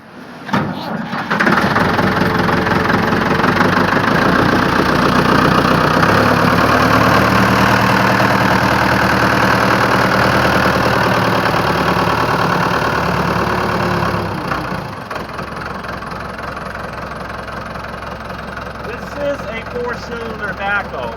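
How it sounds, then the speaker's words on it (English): A Ford 655A backhoe with a four-cylinder replacement engine idles loudly and steadily with a low, even throb, then drops to a quieter idle near the end. "Four-cylinder backhoe, and that motor has been replaced at one time."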